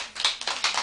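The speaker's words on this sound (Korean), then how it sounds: "이 소리라. 박수 쳐라고" A few hand claps in quick succession, close and fairly crisp, with a short irregular rhythm in a quiet room.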